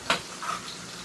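Food cooking in a pan while being stirred, a brief scrape and soft sizzle over about a second, one quick louder stroke at the start followed by fainter movement.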